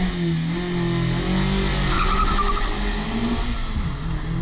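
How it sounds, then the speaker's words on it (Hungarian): An orange Mazda MX-5 Anniversary roadster launches hard from a standstill on a lap-timing track, its engine revving loudly with tire squeal and skidding, then a pitch drop at the gear change, heard up close. "A narancsárga MX-5-tel a fiúk egyformán rajtolnak"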